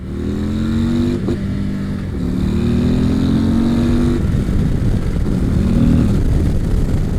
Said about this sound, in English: you heard me hit the rev limiter twice, right?